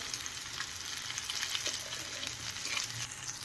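Chopped tomato fries in hot oil for mutton keema, a continuous dense sizzle with soft bubbling and stirring texture, steady and close without talk.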